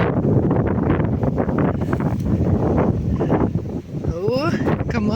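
Strong gusting wind roars loudly and continuously across an exposed rock outcrop, buffeting the microphone throughout with brief calmer dips.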